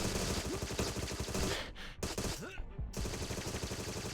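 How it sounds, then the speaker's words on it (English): SMG fire in the video game Agent 64: Spies Never Die comes as rapid, dense automatic bursts, loud and close, with a brief pause in the middle before the shooting resumes. "Let's just use the SMGs."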